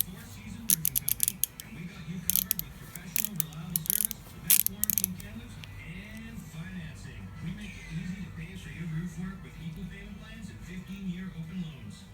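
Ratchet wrench with an extension removing power steering pump bolts on a Jeep TJ makes short bursts of rapid clicking over a low, steady rumble of background noise.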